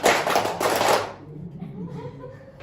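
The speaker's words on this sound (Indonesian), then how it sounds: "Contohnya seperti ini, tepuk berpola. Tepuk 1, tepuk 2, tepuk 1, tepuk 2, tepuk 2 kali." A classroom of children doing a patterned clapping ice-breaker, a quick burst of sharp group claps in short rhythmic groups that stops after about a second, leaving quieter room noise and faint voices.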